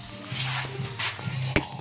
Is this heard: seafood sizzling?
yes